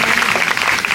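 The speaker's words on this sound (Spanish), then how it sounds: "Así que ese aplauso para Javier." Brief, loud, dense applause from a dinner audience at a gastronomic-literary evening in Elche, clapping for Javier; a continuous wash of many hands close by.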